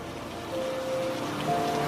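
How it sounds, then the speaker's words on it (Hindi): Heavy rain at night in a Hindi cartoon story, a steady close hiss of downpour over a bus stop shelter, with a faint tonal hum under it and no voices. "चारों तरफ सन्नाटा है, बारिश की आवाज तेज है।"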